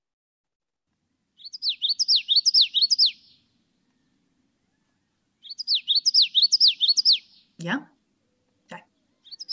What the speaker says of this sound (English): we have common yellowthroat, who says, this is the common one, witchetty, witchetty, witchetty